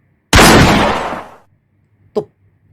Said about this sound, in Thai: พลานคลามก็ลั่นไกล เป็นนัดที่ 3 ทันทีครับ